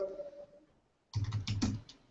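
A computer keyboard clatters with quick, close typing: a short burst of crisp clicks after a moment of near silence, with no voices.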